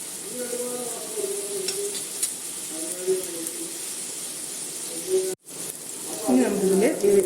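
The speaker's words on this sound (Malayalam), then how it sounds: "ഒരു വിരലിൻ്റെ അത്രയ്ക്കുള്ള തേങ്ങ ചെറുതായിട്ട് അരിഞ്ഞെടുത്തത് അതിവിടെ ചേർത്ത് കൊടുത്തിട്ടുണ്ട് ചെറുതായിട്ടൊന്ന് വഴറ്റിയാൽ മതി" Finely chopped coconut sautés in a pan for a Kerala papaya thoran, with a soft sizzle and stirring heard under a person talking, ending in a louder burst of frying.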